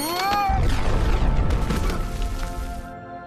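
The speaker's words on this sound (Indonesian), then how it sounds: "sebuah rudal mendarat di dekatnya dan meledak." A missile lands nearby and explodes in a loud, booming blast, with a rushing roar and rumbling debris that slowly decays over about three seconds.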